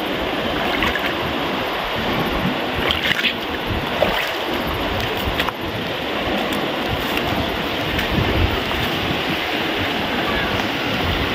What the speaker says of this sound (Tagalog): Ito na tayo sa ilog.